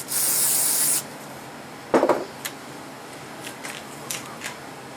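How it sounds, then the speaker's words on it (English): WD-40 sprays onto a diaphragm from a chime assembly in one loud hissing burst of about a second, followed by a few faint clicks and handling sounds. "We're going to see if some WD-40 will clean these stuff off of this diaphragm."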